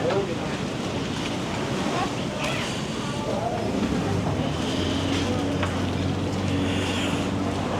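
Ocean surf washes at high tide on a beach in Sanur, Bali, a loud, continuous rushing wash of waves mixed with gusty wind noise across the microphone.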